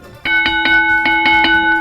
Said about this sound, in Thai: ระฆังนี่แหละ